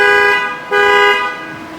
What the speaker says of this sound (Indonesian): kalau klakson bunyinya begini nih